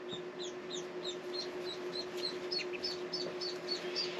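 Mandarin ducks give a quick series of soft, high, regular peeping calls over a low steady hum, fairly faint and close.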